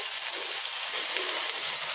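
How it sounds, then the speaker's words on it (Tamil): Ground masala paste sizzles in a pan with golden-brown sautéed onions while cooking a green peas kurma, a steady close hiss with no break. "இப்போ வந்துட்டு நம்ம அரைச்சி வச்சுருக்கிற மசாலா சேர்த்திக்கலாங்க"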